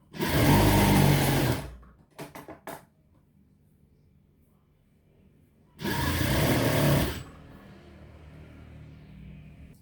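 A sewing machine stitches a kameez in two loud, steady bursts of rapid whirring, separated by a short pause with a few quick stutters and light handling noise.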